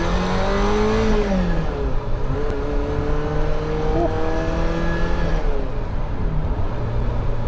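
A 30-year-old Ferrari 348 TS Spider engine drones steadily under load from inside the car while driving, its pitch rising and falling with throttle and gear changes, loud and continuous throughout.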